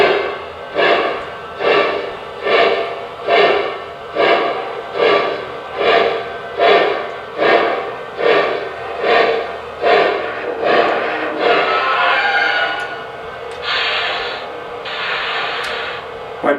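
An American Flyer Y3 model steam locomotive chuffs in a steady slow rhythm of about a dozen even puffs, then the beat smooths into a continuous hiss with faint clicks.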